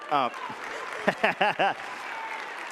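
Brief applause from an audience at a talk on workplace connection, a short patter of clapping mixed with speech, the speaker's voice starting and stopping over it.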